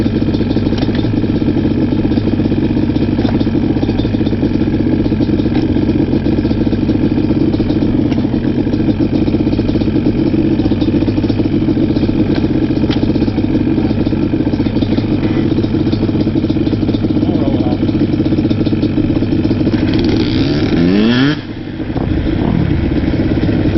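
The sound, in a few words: Banshee engine started and running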